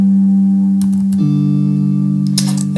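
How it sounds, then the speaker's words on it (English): A sustained, pitched-up synthetic-sounding guitar chord sample rings out, shifts to a slightly different chord midway, with brief clicky transients over it. "Then we have some guitar chords as well."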